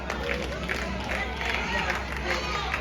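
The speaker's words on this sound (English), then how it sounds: "See how them claps died down a little bit?" Congregation at a religious gathering claps in a thin, fading patter beneath a steady murmur of crowd noise and voices, the clapping dying down rather than building.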